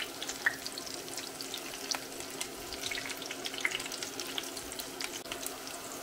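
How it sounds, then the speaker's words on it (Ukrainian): Alfalfa and rice patties fry in a pan over medium heat, giving a quiet, steady sizzle dotted with small crackles and pops throughout. "перевертаємо і хвилин 5 підсмажимо на середньому вогні з іншої сторони."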